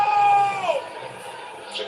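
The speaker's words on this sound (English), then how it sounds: "Crowd suddenly making a lot of noise." Crowd noise swells at a rugby league stadium during a Queensland Cup match between the PNG Hunters and the Burleigh Bears, a broad roar of cheering spectators that peaks early then eases, with a commentator's voice running over it.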